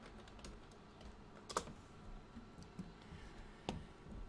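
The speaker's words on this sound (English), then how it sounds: "Now I'm going to type in the name so I don't get confused." Keys being typed on a computer keyboard while entering a name into graphics software, a soft steady patter of clicks with a couple of sharper strokes, close and quiet with no voices.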